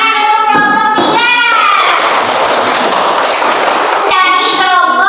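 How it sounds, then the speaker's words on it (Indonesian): Schoolchildren applaud together in a classroom, a dense burst of clapping lasting a few seconds, with children's voices and an adult speaking before and after it. "ya tepuk tangan untuk kelompok 3"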